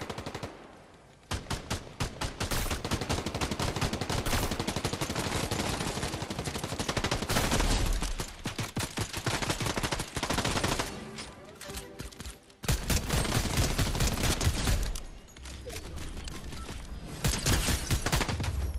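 Rapid gunfire during a Fortnite Last Resort fight, dense loud bursts of shots crackling almost nonstop with brief pauses between volleys, and voices talking over it now and then.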